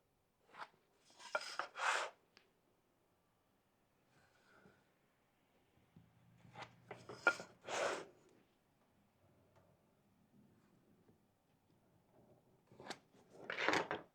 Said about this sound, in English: I like to put my pencil on the mark that I have, slide my square over until it touches the pencil, and then strike my line